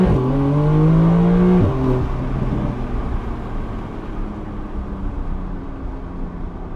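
A Porsche 911 GTS engine pulls hard under acceleration, the rising rev note climbing loudly before a quick shift near two seconds, then settling into a steady, fading drive hum and road noise.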